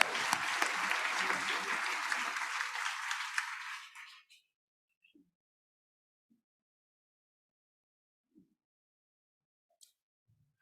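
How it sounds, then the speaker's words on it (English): Audience applause at a church service, dense clapping for about four seconds that fades out quickly into near silence with only a few faint stray sounds. "One more round of applause."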